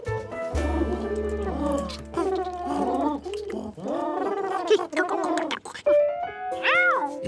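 Cartoon pigeon cooing and gargling bird calls in Curious George, several warbling coos in a row, with a narrator speaking partly over them.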